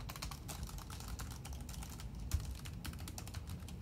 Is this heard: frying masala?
no